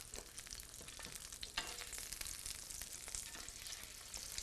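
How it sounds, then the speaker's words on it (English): Foie gras sears in a hot pan with no oil, a steady, dense sizzle and crackle that runs continuously throughout, with small pops scattered across it. "We got the foie gras in the pan."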